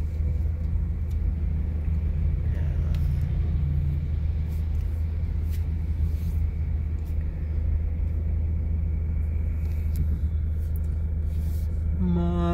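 Heavy road traffic on EDSA near Magallanes in Makati forms a constant low rumble of engines heard from inside a vehicle, with faint clicks and brief higher tones near the end.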